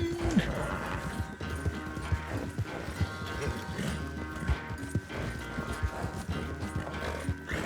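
Horse hooves clip-clop rhythmically in Red Dead Redemption 2 as the horse runs with its stamina spent, a steady close patter under game sound and some voices.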